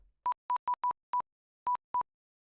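Short electronic bleeps from a bleep button, seven brief mid-pitched tones in quick irregular succession, clear and alone against silence.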